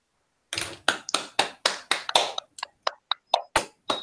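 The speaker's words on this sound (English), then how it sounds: "Feroze, I have to clap." One person clapping hands alone in a quiet room, about a dozen sharp, close claps at an uneven, slightly slowing pace.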